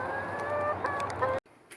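School chickens cluck briefly nearby amid a steady outdoor hum, a few short squawks layered together before the sound cuts off abruptly.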